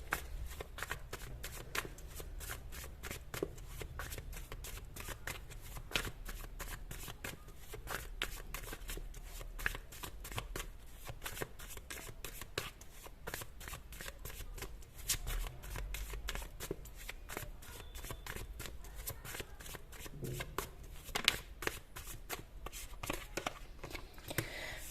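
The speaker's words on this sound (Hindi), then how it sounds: "अगर आपको कार्ड शफलिंग पसंद नहीं है तो आप इसको स्किप कर सकते हो" Tarot cards shuffled continuously by hand for a reading, a steady rapid riffle of papery flicks and slaps, close and fairly loud, with no voices over it.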